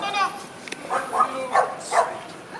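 Small dogs yap a few times in quick, high-pitched bursts, fairly close, mixed with people talking.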